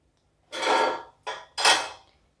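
Metal strainer scraping and clinking against a pan while fried nimki is lifted from hot oil: three close, distinct scrapes, the middle one shortest.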